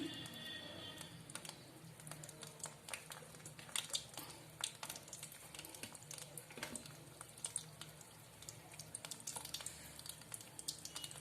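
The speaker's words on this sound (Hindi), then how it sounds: "तो धीमी आंच पे हम अपनी बालूशाही सारी सेक लेंगे।" Balushahi frying in moderately hot oil over a low flame: a faint, steady sizzle scattered with small crackles and pops throughout.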